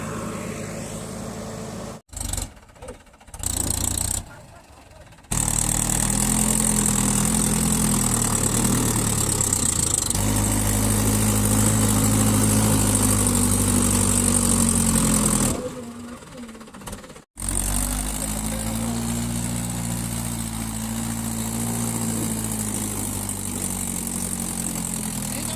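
A tractor engine runs on a farm, a loud, close, steady diesel drone with a low rumble that holds for long stretches, broken by a few abrupt cuts.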